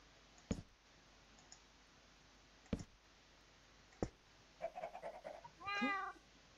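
A cat in the Minecraft video game meows twice in a short harmonic cry near the end, after several sharp isolated clicks spaced a second or so apart, all fairly close and with no talking.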